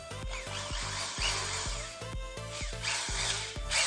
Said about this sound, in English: this just attaches onto the end of your drill